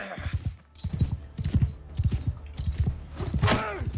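Horses gallop in Mount & Blade II: Bannerlord, with steady rhythmic hoofbeats thudding close and loud and overlapping across several animals, along with a brief whinny near the end.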